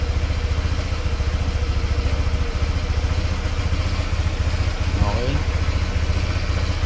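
A Honda Click scooter idles after cleaning and diagnosis, its engine putting out a steady, rhythmic low putter up close. A voice talks over it.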